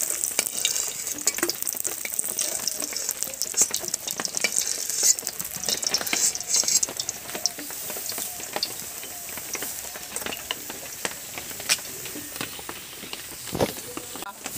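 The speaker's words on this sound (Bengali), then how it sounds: "মাছটা দেখুন কোড়া করে ভেজে নিচ্ছি লাল করে" Rohu fish frying in hot oil for a kalia, a close, steady crackling sizzle with frequent spatters and pops and scraping stirs, continuing evenly throughout.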